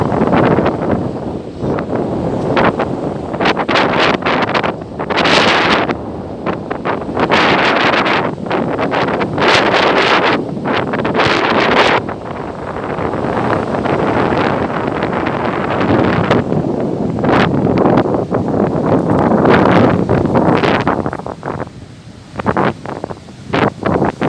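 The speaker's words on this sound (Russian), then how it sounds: "Буду молчать сейчас, потому что все равно ветер задувает." Strong storm wind buffets the microphone in loud, continuous gusts on the Black Sea shore at Arkhipo-Osipovka, with rough surf churning underneath for the whole stretch, no voices.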